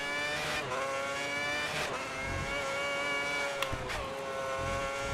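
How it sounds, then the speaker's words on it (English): High-revving Formula 1 car engine in the racing game F1 2010: a loud, sustained shriek with sharply rising and falling pitch through gear shifts, heard alone without voices. "have you ever heard an engine go as screamy as the one in this game does?"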